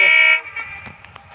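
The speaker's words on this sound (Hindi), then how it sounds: "अभी ट्रेन पास आ गया।" The Agartala Kanchanjungha Express sounds a loud, close, steady horn blast that cuts off abruptly, followed by a faint rumble and light clatter of the approaching train.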